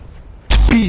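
A flashbang grenade detonates in Counter-Strike: Global Offensive: after half a second of quiet, a sudden loud burst hits and rings on with a bright, sustained tone as a voice sounds over it.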